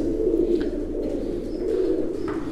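Tumbler pigeons of the Mardin breed coo softly in a loft, a low murmuring drone that runs steadily throughout with a few brief higher chirps, and nobody speaks.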